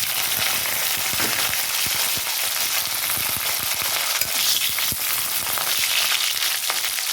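Green chillies and onion fry in a small amount of hot oil in a kadai, giving a dense, steady sizzle with faint stirring clicks underneath, close and unbroken, with no one speaking.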